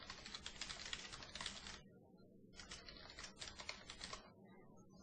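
Rapid clicking keystrokes on a computer keyboard come in two quick bursts separated by a brief pause, close and fairly quiet, with no voice over them.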